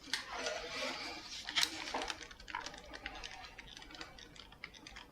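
Soft plastic creaks and faint ticking clicks as a SteelSeries Apex 3 RGB gaming keyboard housing is twisted, a quiet scattered crackle close by with no talking.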